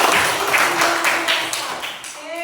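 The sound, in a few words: schoolchildren clapping hands in class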